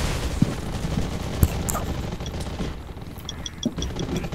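Gunfire in the Undawn shooter game's PvP zombie mode, with scattered sharp shots and bursts over a dense, noisy battle background, mostly steady with a few louder cracks.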